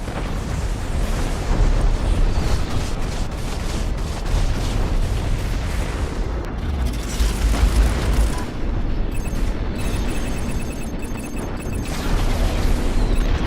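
Missiles exploding in the space combat game Strike Suit Zero, a dense, continuous wash of booming blasts and crackling bursts that stays loud throughout with no clear gaps.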